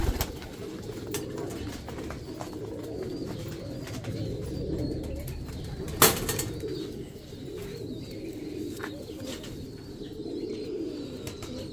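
Pigeons coo steadily in low, throaty murmurs, several birds overlapping in a continuous rolling chorus, with one brief sharp knock partway through.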